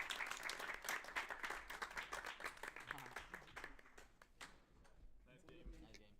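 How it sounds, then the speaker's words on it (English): Crowd clapping and cheering at the close of an Altered trading card game tournament with 128 players in Italy, dense applause that thins out toward the end, with voices mixed in. "with the handshake and the cheer of the crowd"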